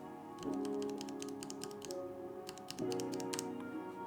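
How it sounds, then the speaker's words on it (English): Fast typing on a mechanical keyboard with Cherry MX Speed Silver switches, a close, quiet rattle of crisp keystrokes in two quick runs. "There are exceptions, like these Cherry MX Speed Silver switches."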